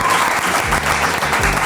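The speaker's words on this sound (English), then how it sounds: "A round of applause." A studio audience applauds Billy Porter on a podcast, with a dense, steady wash of clapping that stays loud and even for the whole stretch.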